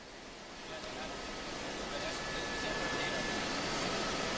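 A news helicopter flying overhead gives a steady broadband whoosh of rotor and engine noise that swells slightly and then holds, with a voice speaking over it.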